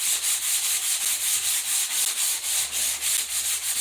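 Sandpaper is rubbed back and forth over a surface in a steady, quick rhythm of about four strokes per second, close and clear with no talking.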